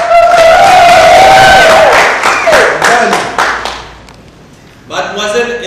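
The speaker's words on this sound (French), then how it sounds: "On applaudit." Guests at a religious wedding ceremony break into loud clapping and cheering right after the vows, a dense burst of applause that fades, then picks up again briefly.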